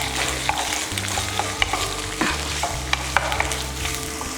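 Onions fry in a pan for a yogurt curry, a close, continuous sizzle with frequent scraping stirs and light clinks, no talk.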